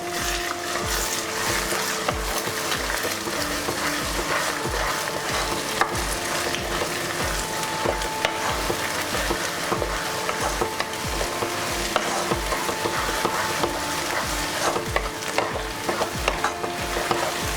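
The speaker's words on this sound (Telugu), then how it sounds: "ఉల్లిపాయలు ఎగ్ మొత్తం అంతా మిక్స్ అయ్యేదాకా మొత్తం కలుపుకోవాలి." Egg bhurji with onions being stirred in a pan over low heat, a steady sizzle running throughout with repeated scraping strokes of the spoon, close and fairly loud, no voices.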